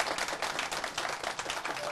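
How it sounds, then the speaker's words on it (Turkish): A Turkish TV studio audience claps together, a steady, dense patter of applause at moderate level with no voices over it. "Bir daha alkış gelsin."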